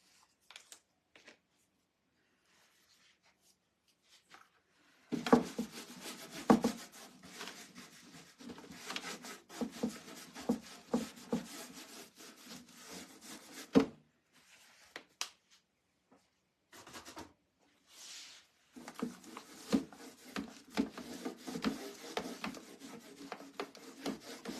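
Whitewash finish being rubbed by hand onto a metal wall shelf: dry, rasping back-and-forth scrubbing strokes in two long stretches separated by near silence, close and fairly quiet, no voices.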